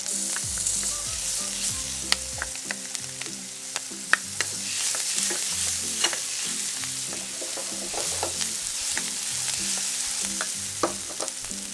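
Onions and garlic sizzle and crackle steadily in a hot frying pan, with sharp pops and occasional stirring scrapes close by, no voices over it.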